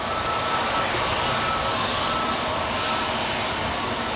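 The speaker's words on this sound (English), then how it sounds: "That Lufthansa A350 that you all just saw moments ago arrived from Munich" A Lufthansa Airbus A350 airliner at O'Hare Airport gives a steady, broad jet engine roar that holds constant and fairly loud throughout, with no talking.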